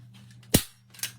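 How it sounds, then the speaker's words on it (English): A staple gun fires staples into a DIY cow head door hanger, two sharp snapping clacks about half a second apart, close and loud over a faint steady hum. "it's going to be just a little bit loud as I put a few staples in"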